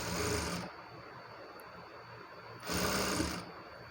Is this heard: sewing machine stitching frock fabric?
yes